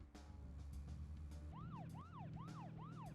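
A car siren in the video game Deadly Premonition starts halfway through, a repeating rising-and-falling wail in four quick cycles over a low engine rumble.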